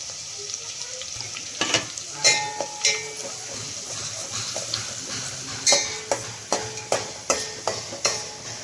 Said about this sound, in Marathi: यामध्ये थोडीशी जिरे आणि मोहरी टाकायची आहे आता हे व्यवस्थित परतून घेऊ